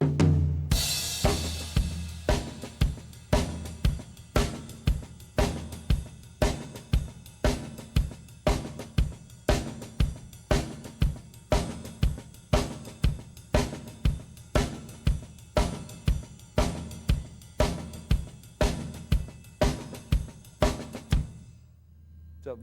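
Drum kit plays a steady backbeat shuffle groove, cymbal riding the triplet pulse with unison bass drums and snare on 2 and 4, evenly repeating for about twenty seconds, close and alone.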